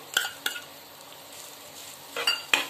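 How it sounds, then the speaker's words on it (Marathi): Grated coconut roasting with dry fruits in a pan for a Ganesh Chaturthi offering, soft frying hiss punctuated by several quick spatula scrapes and taps against the pan, near and clear, no talking. "आता ड्रायफ्रूट थोडे परतले की त्यात मी खवलेला नारळ टाकते"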